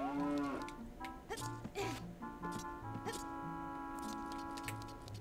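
Cow mooing in The Legend of Zelda: Ocarina of Time, a few drawn-out tonal moos mixed with game music and brief clicks, fairly loud and clear without talk.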